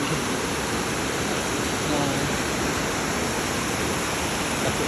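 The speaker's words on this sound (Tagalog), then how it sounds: "kusog-kusog pod iyang bulog sa tubig" A steady, dense roar of strong rushing floodwater during a typhoon on the way to Guadalupe fills the air without pause, loud and broad like a swollen torrent close by.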